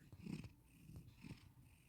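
A cat purrs softly and close by, a low rumbling rhythm that rises and falls with each breath.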